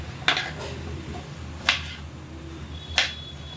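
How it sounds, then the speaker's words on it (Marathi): A knife chops tomato finely on a board, three sharp, well-spaced cuts heard close up against a quiet background. "टोमॅटो कापून घेऊया बारीक बारीक."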